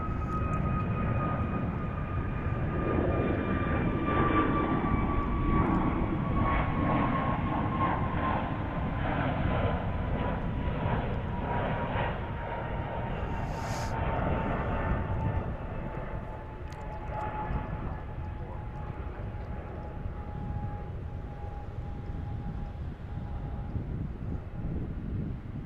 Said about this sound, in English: let's check out this A321 taking off here on 36 right